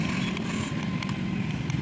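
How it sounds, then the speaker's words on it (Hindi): A John Deere tractor engine runs steadily while reversing, a loud close rumbling drone with faint rhythmic knocking and clicks on top. "और रिवर्स भी आ रहा है ट्रैक्टर"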